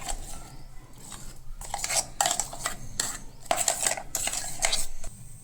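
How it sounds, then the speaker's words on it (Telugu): A spoon scrapes and clatters against a mixer jar and a bowl while ground cheesecake mixture is transferred, a series of close metallic scraping strokes and taps with no talking. "ఇప్పుడు నేను మిక్సీ జార్ నుంచి గిన్నెలో ట్రాన్స్ఫర్ చేసుకున్నాను"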